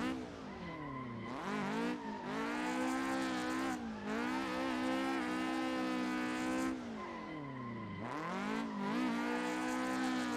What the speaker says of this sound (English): Probably still one of my most favorite drift cars in the game